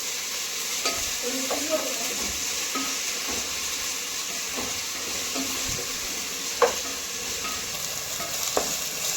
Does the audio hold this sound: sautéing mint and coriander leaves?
yes